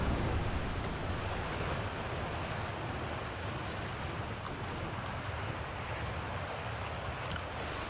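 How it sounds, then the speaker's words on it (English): Waterfall in Outer Wilds, a dense, steady rushing roar of falling water spread evenly throughout, constant and enveloping with no talk. "This is like a weird waterfall making noise everywhere."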